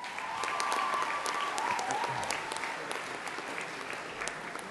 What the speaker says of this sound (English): I think that deserves a round of applause again.